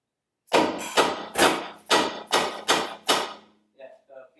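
Orange hammer striking metal during assembly of a Shelby Cobra replica engine install, seven loud, evenly spaced close blows, followed by two fainter taps.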